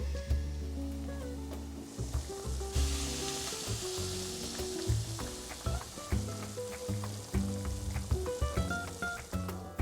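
Dried chiles sizzle and fry in a hot pan for shrimp a la diabla, a steady close crackle with occasional stirring clatter and no talk.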